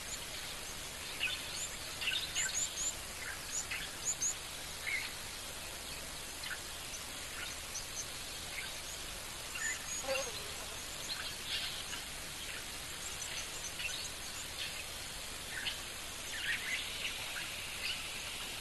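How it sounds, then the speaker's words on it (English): Faint, high-pitched chirps of twinspots and waxbills call repeatedly from a distance at an African waterhole, over a steady wash of ambient background hiss, with no voices present. "you hear a lot of those little twin spots and waxbills, especially that high-pitched waxbill call"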